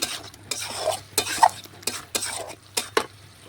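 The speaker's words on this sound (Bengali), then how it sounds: "এটাও নাড়াচাড়া করতে করতে দেখুন আমি মটনটা কষিয়ে নিচ্ছি" Mutton with papaya braises in a pan over a low wood fire, with irregular scraping stirs and utensil clinks over a faint sizzle, close up.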